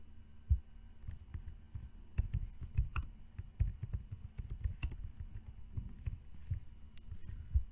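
Computer keyboard typing while entering a product suite name in InstallShield installer setup: irregular soft clicks and keystroke bursts, fairly quiet and close, with no talking.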